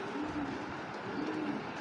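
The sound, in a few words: pair of pigeons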